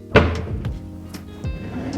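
A cabinet drawer without soft-close slams shut in a home kitchen, giving a sharp wooden bang followed by a couple of softer thunks and rattles, close and loud, with no talking.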